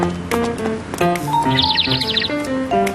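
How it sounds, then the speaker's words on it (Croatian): Bird chirping in a cartoon: a short burst of rapid high chirps in the middle, heard under an ongoing voice and background music. "Što radi ova ptica?"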